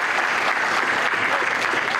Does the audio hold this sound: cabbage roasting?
no